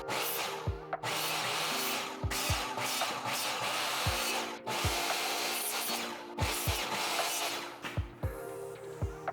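A power saw cuts wood for a custom liquor cart in a series of loud, harsh bursts, each stopping briefly before the next pass, steady and close throughout.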